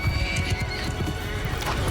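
A horse neighs and whinnies amid galloping hoof clip-clops on a battlefield in the medieval combat game Mount & Blade II: Bannerlord, loud and close over a constant low rumble of fighting.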